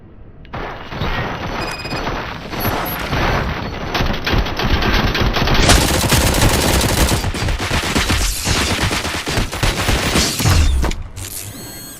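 Loud, sustained gunfire in RoboCop: Rogue City, rapid automatic bursts and heavy shots layered with mechanical clatter that keeps going for the whole stretch with no letup.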